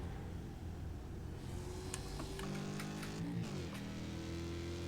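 A Mazda Miata race car engine in a sim racing game drones steadily in the background, faint and even in pitch, with a slight change in tone as the car shifts gears partway through.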